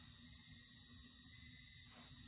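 Crickets chirp steadily at night outside a rural farmhouse yard during a blackout, a dense continuous high trill with layered insect voices, no talking.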